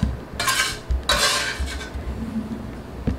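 Cooked golden-brown onions scraped into a pan for a quiche, two bursts of metal-on-pan scraping and clatter up close, followed by quieter rustling and a final light knock.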